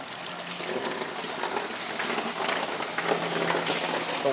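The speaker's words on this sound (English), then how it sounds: "The water is filling this large tank as we speak with clear water." Rainwater from a roof collection system pours into a large storage tank, making a continuous, moderately quiet gushing wash of water that stays fairly even throughout, with no talking.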